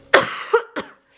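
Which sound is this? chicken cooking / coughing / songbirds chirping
coughing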